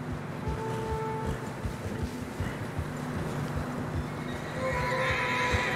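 A horse whinnies in the video game Red Dead Redemption 2, amid steady hoof clip-clops through fresh snow and a low background hiss, the neigh carrying clearly over the ambient noise.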